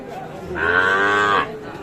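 A single cow or bull lets out one sustained moo lasting just under a second at a busy cattle market, loud and close, with faint background chatter before and after.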